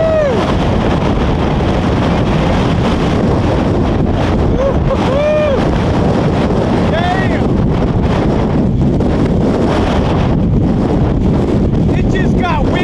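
Strong gusting wind roars across the microphone on a high mountain trail near Mt. Whitney, loud and continuous throughout with no speech.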